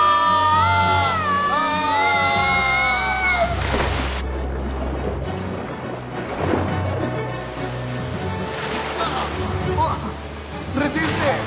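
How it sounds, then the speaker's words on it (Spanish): Rushing water of an underground river fills an animated cave scene with a loud, continuous churning wash. Voices speak over it at the start, and the water surges on alone afterward. "Oigan, es un río subterráneo."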